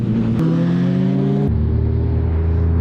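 A Yamaha MT-09 motorcycle engine revs hard and close, a loud sustained drone whose pitch climbs, drops sharply partway through, then settles into a lower steady roar.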